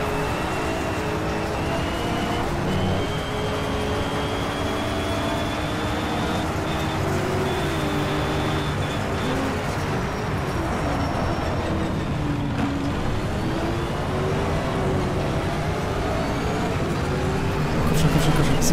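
Racing car engines in Shift 2 Unleashed, in a close duel with a Corvette, drone continuously and loudly with shifting pitch for the whole stretch, under a voice commentating.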